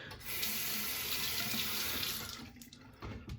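Tap water runs steadily from a faucet into a sink to wet a HeadBlade Moto razor, a continuous close splashing hiss that thins toward the end.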